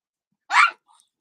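A puppy gives a single short, sharp bark, close and clear against silence, followed by a faint breathy trailing sound.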